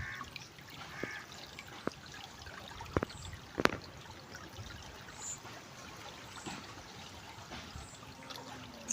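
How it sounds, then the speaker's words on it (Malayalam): Rainwater trickles and gurgles along a flooded path after a night of heavy rain, a soft, continuous flow with a few sharp clicks and splashes nearby. "ഈ വഴിക്ക് വെള്ളം കയറുന്നു കേട്ടോ. അപ്പം നല്ല നേരെ വെള്ളം പോകുന്നുണ്ട്."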